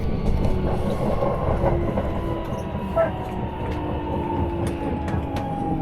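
A Tokyo metro train on the Asakusa line pulls into a stop, a steady low rumble with rail clatter and faint squealing tones, heard from inside the station or car and mixed with a faint voice.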